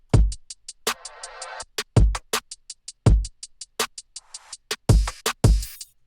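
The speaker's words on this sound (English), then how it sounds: "we got two kicks put together on top of the rest of the drums" Punchy layered kick drums thump in a syncopated pattern, interleaved with bright snare and cymbal hits in a full, up-close drum loop.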